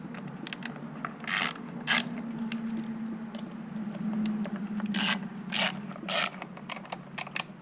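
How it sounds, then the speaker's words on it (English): A ratchet backs out the long T27 bolts securing a Harley-Davidson motorcycle's air filter cover, giving several close bursts of rapid metallic clicking over a steady low mechanical hum, with no talking. "Now we'll remove these 3 T27 bolts, securing our air filter."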